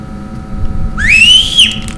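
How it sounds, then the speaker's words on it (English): A rising whistled tone in a video game sweeps upward, holds steady and bright for about half a second, then cuts off over a low rumbling game backdrop. "No, don't whistle, bro."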